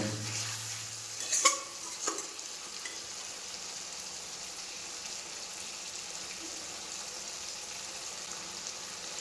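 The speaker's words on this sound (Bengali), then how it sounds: "এরপর এটা একটু নাড়াচাড়া করে মশলাটা কষিয়ে নেব।" Spice paste sizzles softly in a pan, with a couple of stirring scrapes early on and then a low, even frying hiss for the rest, close but faint.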